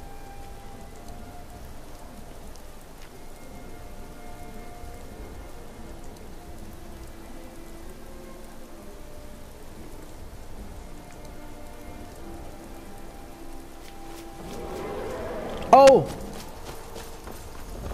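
Steady rain falls in the video game Skyrim, a soft continuous patter across the whole stretch, with a brief sharp clatter near the end.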